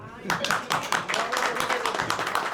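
Conference audience applauding, a dense, steady patter of many hands clapping that carries on without a break.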